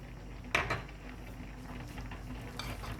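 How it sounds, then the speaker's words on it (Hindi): A utensil stirs mango salsa with lemon juice, salt and pepper in a bowl, one clear scrape-and-clink near the start and lighter stirring later, quiet and close with no voices. "इन सारी चीज़ों को हम अच्छे से मिक्स कर लेंगे।"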